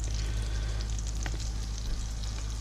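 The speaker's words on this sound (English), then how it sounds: "So let's get these balls to frying." Swedish meatballs fry in olive oil and butter, giving a steady, close sizzle with faint crackles and pops over a low hum, without any voices.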